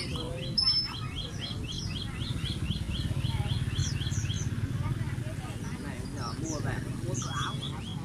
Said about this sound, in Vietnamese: bên này có con chim, chim săn